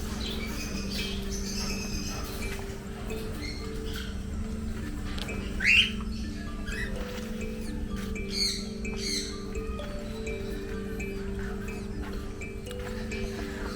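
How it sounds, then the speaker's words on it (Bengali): Cockatiels in a park aviary give sharp squawks and short chirps, one louder call standing out midway, over a steady low hum of background noise. "এই দেখুন ককটেল বার্ড।"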